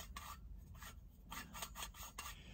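Dried flakes ground in a small hand-turned grinder, a series of quiet, dry rasping scrapes in short bursts as the lid is twisted back and forth, close and alone.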